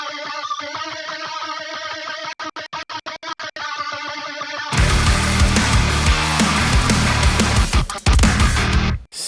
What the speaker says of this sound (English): I glitched it out during the closed hi-hat parts.